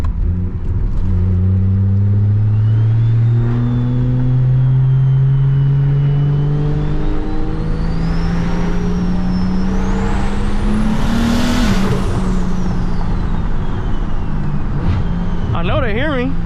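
Single-turbo BMW 335i engine accelerating hard from inside the car, a loud rising drone climbing through the gears with turbo whine above it, while someone talks over the noise.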